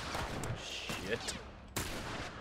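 Gunfire in The Last of Us, a few sharp shots in quick succession over ambient game sound, the last one loud and abrupt, with a player's voice faintly mixed in.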